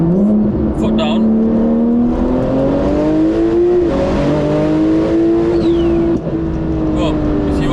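A 1500bhp Miami Blue Porsche 992 Turbo S pulls hard at full throttle, its engine note climbing steadily through the gears with brief shift breaks, loud and close from inside the car.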